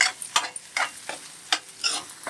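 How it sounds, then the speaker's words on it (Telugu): Chicken curry masala being stirred in a pan, a run of repeated scraping strokes at an uneven rhythm with a light sizzle underneath, close and fairly quiet, no voices. "దగ్గరుండి ఇలా కలుపుకుంటూ ఉండాలండి అడుగు పట్టకుండా"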